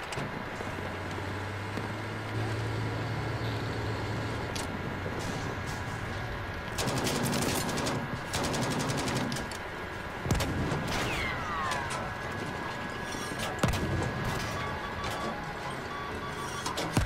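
Gunfire and explosions from the Battlefield V game with a Panzer IV tank, heard as bursts of shots and booming blasts over a steady engine rumble, with no talking.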